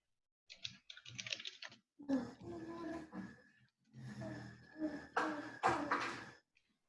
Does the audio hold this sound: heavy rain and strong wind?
no